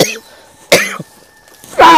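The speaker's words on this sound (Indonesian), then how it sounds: "Aku di sini agak sulit agak berbicara ya. Karena batuk-batuk." Several loud, harsh coughs come in separate bursts from a person close by, with quiet gaps between them.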